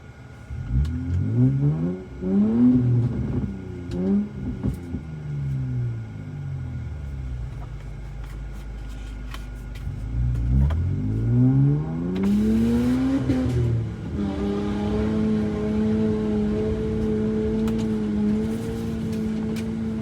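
A car's engine revs hard as it drives up a mountain off-road track near Manglisi, with rising and falling surges, a short lull, then a sustained high whine.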